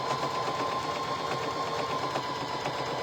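A sewing machine runs continuously while stitching around the sides of a quilt star square appliqué on a shirt, with a steady close-up whirring hum and no pauses or talking.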